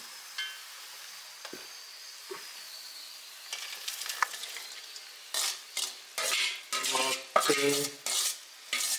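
Fish pieces go into boiling pickle masala oil and are stirred, with a quiet hiss at first giving way to loud, close scraping and clattering strokes in a quick rhythm.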